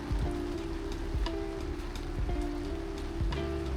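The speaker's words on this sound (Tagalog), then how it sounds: "ang lakas talaga ng ulan" Heavy rain pours down in Osaka, a dense continuous patter on surfaces with steady splashing drops, while a low engine-like hum runs underneath the downpour.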